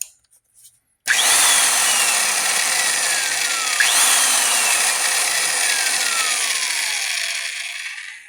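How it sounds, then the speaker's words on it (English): A vintage Harbor Freight power tool whirs loudly and steadily after a brief start, with a harsh, gritty grinding rattle from worn bearings running through it as it slowly winds down. "Now that really does have the trashy sounding bearings in it."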